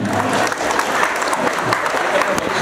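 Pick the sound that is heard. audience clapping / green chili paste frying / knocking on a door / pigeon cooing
audience clapping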